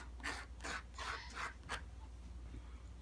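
A file scrapes over guitar frets to remove burrs, in about five short rasping strokes followed by quieter fainter scraping.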